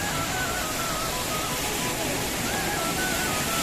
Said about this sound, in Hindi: ये झरना भी है, ये तो आर्टिफिशियल है बाहर से